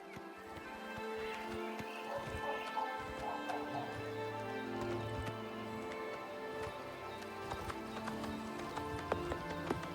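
Horse riding in Oblivion Remastered, soft repeated hoofbeats under a continuous bed of game ambience and music, with faint rain-like patter throughout.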